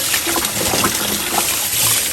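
Beef bones for pho being rinsed and washed in water, a steady close splashing and trickling of liquid with small sloshes throughout, no talking.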